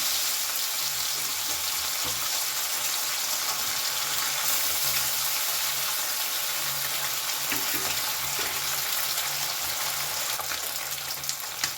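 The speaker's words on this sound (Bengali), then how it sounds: "এবার এই মাছগুলোকেও আমি উল্টো পাল্টে তাল করে ভেজে নামিয়ে নেব" Amud fish fried in oil with turmeric sizzle in a steady, close, even hiss that carries on without a break, with faint clinks and turning sounds here and there and no talking.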